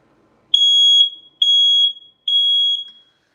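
A smoke alarm emits three loud, shrill beeping bursts in a steady rhythm, each lasting about half a second, with brief pauses between them.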